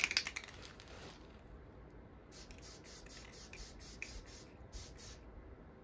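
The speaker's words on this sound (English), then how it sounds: "Alright, I only did a couple spritz," A spray can spritzing a thin base coat onto resin printed armor, several short hissing bursts in quick succession after a few faint clicks, quiet and close with no talk.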